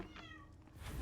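A house cat meowing loudly in the background, one drawn-out call that rises and falls over low room hum, faint and somewhat distant.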